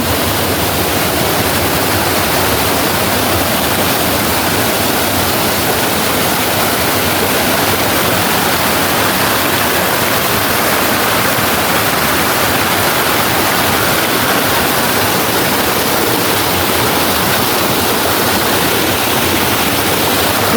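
Sub Sra Kaeo waterfall at Ban Khao Phlueang roars as a steady, dense rush of falling water, loud and continuous throughout, with no talk.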